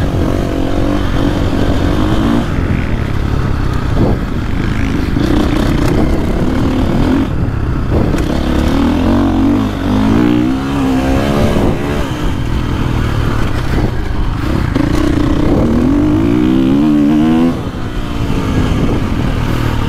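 A 2024.5 KTM 450 Factory Edition dirt bike engine revs and bogs while riding off-road, its throttle rising and falling in repeated surges, loud and close throughout with chassis clatter and no talk.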